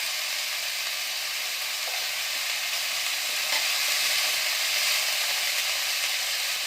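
Water lilies fry in a pan with turmeric while being stirred, giving a continuous loud sizzle and hiss with slight swells and no pauses.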